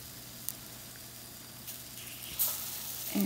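Potatoes on sticks coated in chickpea flour batter frying in oil: a soft, steady sizzle and hiss throughout, with brief bursts of brighter crackle near the end.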